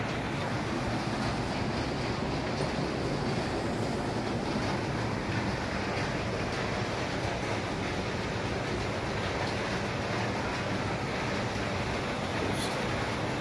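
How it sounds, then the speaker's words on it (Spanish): Rain falls on a tent pitched beside a river, a dense, continuous hiss that stays even from start to end, with no talking. "Pues aquí estamos disfrutando de la lluvia, estamos en una casita de campaña."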